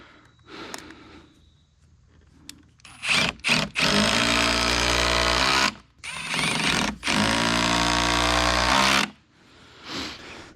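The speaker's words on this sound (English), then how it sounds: "Go ahead and pre-drill this side too." A power drill pre-drills wood for bolts while building the steps and porch of a DIY hunting blind, with two loud sustained whirring bursts of several seconds each, separated by short stops and quieter handling noise.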